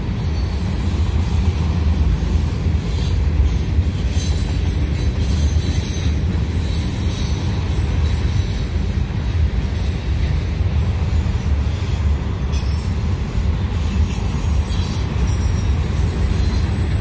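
A long freight train rolls past close by in Berea, Ohio, a loud, steady rumble with faint wheel clatter and occasional high squeals, filling the whole stretch without any talk.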